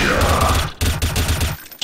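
Rapid gunfire in Counter-Strike ending in a headshot kill: dense, loud bursts of shots roll on almost continuously, break off briefly, then resume before cutting out near the end.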